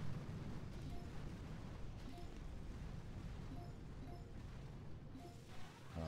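Continuous rumbling barrage of explosions in the video game Boom Beach, dense and low, with repeated booms layered over one another and no pauses.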